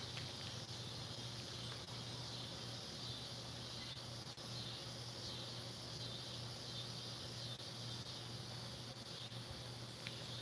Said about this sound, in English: So just hold it up so they can hear all the cicadas.